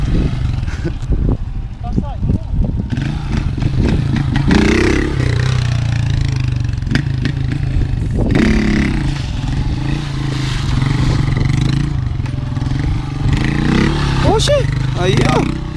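A motorcycle engine rumbles and revs during wheelie practice at a riding spot. The revving is rough and uneven, with scraping clatter, and excited shouting voices are heard throughout.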